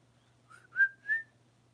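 A whistle sounds outdoors in thick fog: three short tonal blasts, rising and holding steady, the last two louder and longer, heard alone against a low steady hum.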